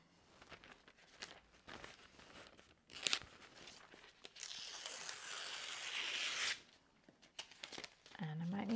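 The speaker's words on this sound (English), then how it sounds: "I'm going to tear all the vellum" Vellum paper is torn into strips for a scrapbook starburst page, producing several crisp ripping bursts with quieter handling between them. The longest tear comes near the middle, and the sounds are close and moderately loud.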